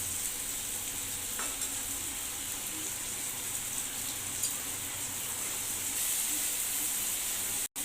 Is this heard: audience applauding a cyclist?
no